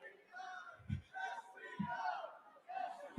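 Convention crowd at the 2024 Republican National Convention in Milwaukee, shouting and cheering loudly from the front rows in overlapping bursts, with a couple of dull thumps beneath the voices.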